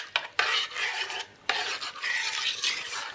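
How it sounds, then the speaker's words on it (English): Yeast is stirred into liquid for Swedish cinnamon buns with a utensil scraping and rasping against a bowl in several close strokes, with short pauses between them. "Now we can stir a little bit so that the yeast dissolves better."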